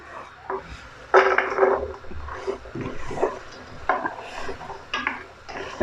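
Spaghetti with maychay is stirred in a pot, giving close, irregular scraping and clattering strokes of a utensil against the pot, with soft bumps between louder scrapes and no talking.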